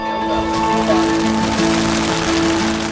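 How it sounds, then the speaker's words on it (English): Steady rain patters continuously across the whole stretch, a dense even hiss with a faint low hum beneath, at a campground surrounded by airplanes during the Oshkosh fly-in. "what's Oshkosh without a little bit of rain?"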